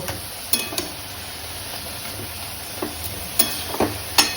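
Cabbage with fish heads cooking in a pan, a low steady sizzle punctuated by a few light clinks and knocks of a utensil against the pan, close by.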